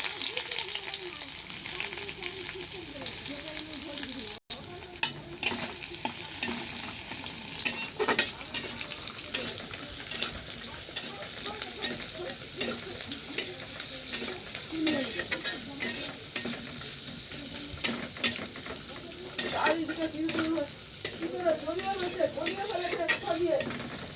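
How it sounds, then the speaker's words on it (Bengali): Chopped onion frying in hot oil in a pan for a cabbage and chickpea dish, with a steady close sizzle and repeated clinks and scrapes of a spoon stirring against the pan. "এবার তেলের মধ্যে দিয়ে দেব পেঁয়াজ কুচি।"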